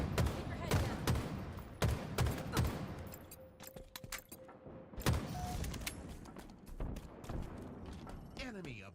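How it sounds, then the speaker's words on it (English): Rapid gunfire in a competitive shooter match in a Hill control mode: bursts of close, crackling shots cluster early, then scattered pops and distant volleys continue under talking. "Shooting."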